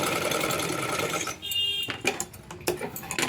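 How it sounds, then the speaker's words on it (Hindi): A sewing machine runs steadily while stitching pleats into a blouse sleeve, then stops and starts in short bursts near the end, close and fairly loud with no talk. "हमको पूरे में इस तरह से सिलाई लगा देनी है।"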